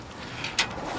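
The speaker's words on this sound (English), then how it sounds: "So I'm just going to have to take these little screws out." Small screws are loosened from a metal e-waste casing, heard as a brief, faint ratcheting click against quiet background.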